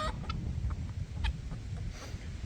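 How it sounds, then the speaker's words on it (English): Chickens scrabbling for food in a farm pen cluck in a few brief, faint bursts over rumbling low background noise. "Even the chickens are in there fighting for that food."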